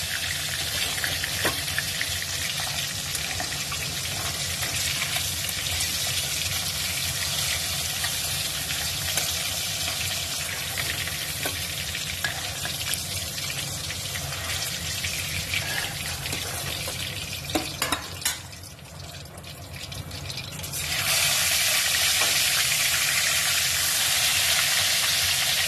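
Fish frying in plenty of oil produces a long steady bubbling sizzle with occasional clinks, dipping briefly before a brighter, louder hiss takes over near the end, close and without speech.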